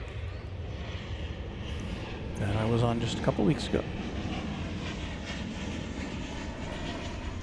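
A 24-year-old Boeing 737-800 jet airliner taxiing at DFW Airport, its steady engine rumble and whine swelling briefly, heard in the distance under someone talking.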